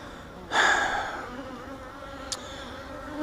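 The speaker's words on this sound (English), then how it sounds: "Hopefully the big cluster of bees that are on the outside of this hive right now will move back inside." Honey bees buzz around the outside of a hive during a honey harvest: a close humming drone swells in as a bee passes near, then settles into a steady background buzz with another brief flyby.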